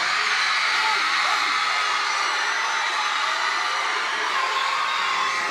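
A large crowd of secondary school students cheers loudly in a school chapel, a sustained, dense roar of voices and whoops that holds steady throughout.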